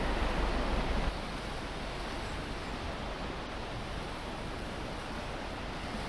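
Steady close roar of river water churning through rocks under a bridge on Telkwa Pass, slightly louder for the first second and then an even, unbroken rush with no talking.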